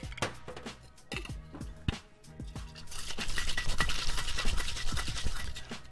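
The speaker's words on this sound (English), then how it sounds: "So start by dry shaking the cocktail." A cocktail shaker is dry shaken without ice for a cognac-based apricot flip with egg, giving close, loud, rapid rhythmic rattling and sloshing that starts in bursts and settles into a steady continuous shake.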